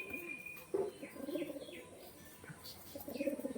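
Pigeons coo softly and repeatedly in a bird-selling setting, with low throaty calls and a few faint chirps over a quiet background.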